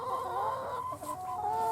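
Backyard coop hens cluck steadily and close by, a continuous overlapping chorus of clucks and soft calls with no speech.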